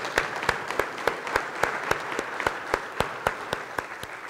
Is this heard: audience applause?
yes